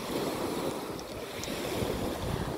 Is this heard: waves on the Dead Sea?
yes